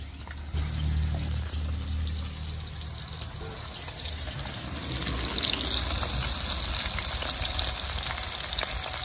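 Pieces of katla fish frying in hot oil, a steady loud sizzle and crackle that stays close and continuous throughout, with no talking.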